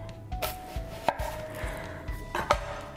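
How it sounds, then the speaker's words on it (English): A knife chops through an onion on a cutting board, with several sharp, close thuds in an uneven rhythm, the crisp slicing of the layers between them, and no talking. "and then I cut through the root"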